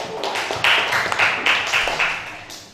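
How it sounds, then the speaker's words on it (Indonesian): Classroom group applauding the second presenting team, a short burst of scattered hand claps rising and falling over under three seconds, fairly close. "Beri tepuk tangan untuk kelompok 2"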